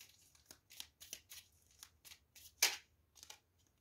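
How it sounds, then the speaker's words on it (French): Tarot cards slide and snap as one is drawn from the deck, a series of quiet, close riffling and flicking bursts with one sharper snap near the end, no voices. "J'aimerais juste tirer une petite carte pour éclaircir l'empereur."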